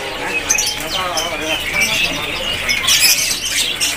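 A captive kacer songbird (magpie-robin) sings loudly and busily at a bird market, with rapid warbling and sharp squawking notes. A voice is heard beneath it.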